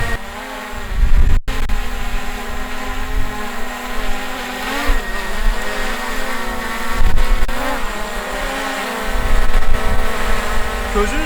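A drone hovers over a campfire on a snowy outdoor site, giving a steady high buzzing whine with wavering pitch throughout, at moderate distance, with occasional talk nearby.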